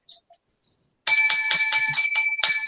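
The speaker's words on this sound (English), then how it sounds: "7 lucky bells for Mookie Betts winning the American League Most Valuable Player" A bell rings seven times in quick, evenly spaced, bright metallic strikes, close and loud, after a short near-silent pause with faint sounds.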